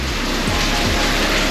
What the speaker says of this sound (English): You can hear that rain out there.